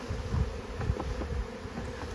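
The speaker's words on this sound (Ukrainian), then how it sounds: "Бджоли, що вилетіли з вулика, збираються десь поблизу пасіки." Many honeybees swarming out of a hive and gathering near an apiary drone and buzz together, a close, continuous hum with small flutters of wingbeats.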